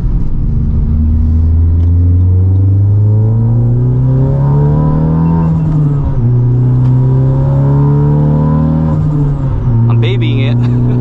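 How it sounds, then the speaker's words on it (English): A big-turbo Honda Civic Type R making about 547 wheel horsepower accelerates hard from inside the cabin. A loud, steady engine drone climbs through the gears with short breaks at each shift, plus turbo whoosh and hiss. "Oh my God, those turbo sounds are just ridiculous."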